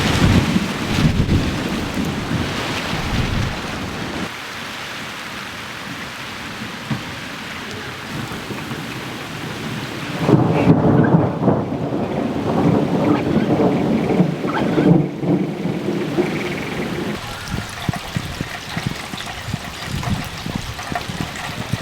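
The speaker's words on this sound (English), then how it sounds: "last night we actually got some rain" A heavy thunderstorm with steady rain pattering on surfaces, broken by deep rolling thunder that swells midway and rumbles on, all loud and close with no voices.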